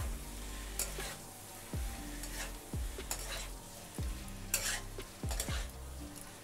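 Soybean chunks are stirred into sautéed potatoes in a pan, a spatula scraping in repeated strokes about once a second over a steady sizzle, close and clear.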